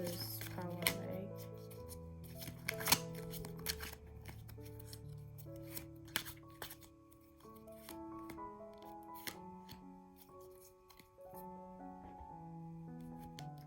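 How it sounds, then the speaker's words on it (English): A tarot card deck being shuffled by hand, with soft rubbing, scraping and crisp riffling clicks in short bursts, set against quiet background music. "I'm using the red or white tarot deck, and I'll just shuffle."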